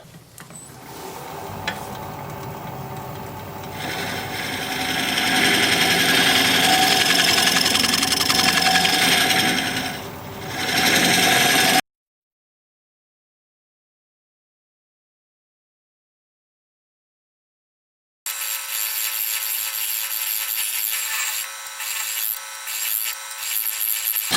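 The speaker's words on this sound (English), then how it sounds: "I'm going to get my negative rake scraper and we'll scrape" A steady, rough scraping of a negative rake scraper against spinning live-edge acacia on a lathe runs for several seconds over a humming motor, then silence, then a thinner grinding noise resumes.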